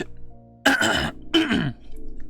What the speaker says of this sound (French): le narrateur doit tousser